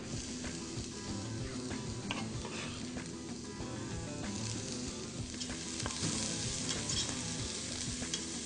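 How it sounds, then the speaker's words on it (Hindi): Steady, crackling sizzle of onions frying in a hot pan with browned garlic, with occasional stirring scrapes and pops throughout, close and continuous. "जैसे लहसुन ब्राउन हो जाए आप प्याज को पैन में डाल दें।"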